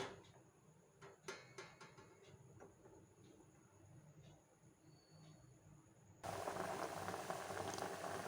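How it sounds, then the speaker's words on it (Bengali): Bread rasgullas bubbling in thin sugar syrup on a gas stove, a soft steady simmer with faint clinks, growing into a louder, denser rolling boil for the last couple of seconds. "আমি রসগোল্লাগুলো দু মিনিট ফুটিয়ে নিয়েছি"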